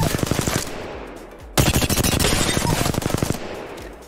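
Rapid automatic gunfire from Apex Legends rattles in two long, evenly paced bursts, close and loud, separated by a short pause, with no voices.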